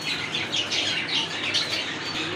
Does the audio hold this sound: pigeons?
yes